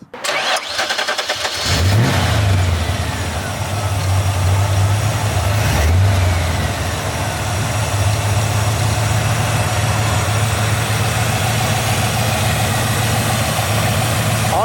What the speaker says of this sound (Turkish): Ondan önce bir motoru çalıştıralım.